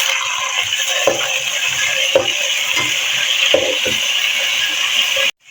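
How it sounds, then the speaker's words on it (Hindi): Chicken goes into spices already fried in ghee and sizzles loudly and steadily, with a few sharp stirring clacks of a spoon against the pan. "अब हम चिकन शामिल करेंगे।"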